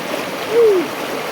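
Heavy river water of the Temula River flows steadily in a broadband rush, with a brief swell of splashing near the middle as someone plays in it; a short tonal whistle or voice-like sweep rises briefly above the water.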